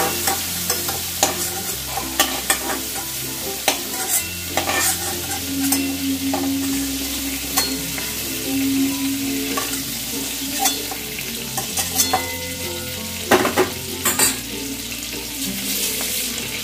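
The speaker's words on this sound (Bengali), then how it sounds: "চিংড়ি মাছটাকে আমি হালকা করে ভেজে তুলে নিচ্ছি" Shrimp being lightly fried in an oil-filled wok, with a steady sizzle, stirring scrapes and clinks of a utensil against the pan throughout, close up.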